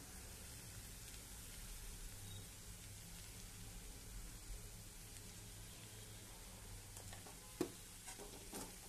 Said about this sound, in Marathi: ते छान असं ढवळून घ्यायचं आपल्याला, सगळीकडे लागलं पाहिजे मीठ